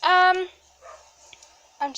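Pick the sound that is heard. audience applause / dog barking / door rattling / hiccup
dog barking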